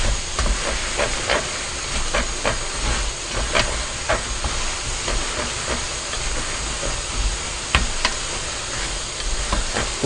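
Buldak spicy noodles stir-fry in a pan with their sauce: a steady, close hiss and sizzle with irregular scraping and tossing clicks from the stirring, and no speech.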